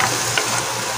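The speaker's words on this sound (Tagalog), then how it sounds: "Gisa natin yung luya," Ginger and garlic sizzle in hot oil in a pan at the start of a chicken tinola with bottle gourd, a steady close crackling hiss with no voices over it.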